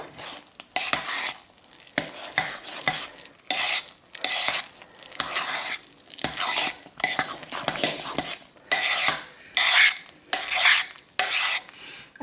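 Hot process lavender soap mixture being stirred, a steady run of scraping, sloshing strokes in repeated bursts across the whole stretch, close and fairly loud with no talking.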